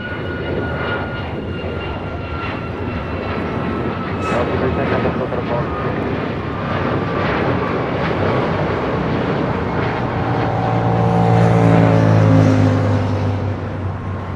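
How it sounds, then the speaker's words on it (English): Alaska Airlines Boeing 737 MAX 9, newly delivered, taking off from LAX for Dulles: a steady, loud jet engine roar that swells toward the end, with someone talking over it. "Alaska Airlines Flight 310 heading to Dulles. 737 MAX 9 just delivered in September of this year"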